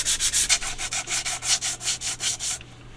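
Sandpaper is rubbed by hand over the painted body of a 1953 Cadillac generator, a close, even run of about fifteen quick back-and-forth rasping strokes that then stops.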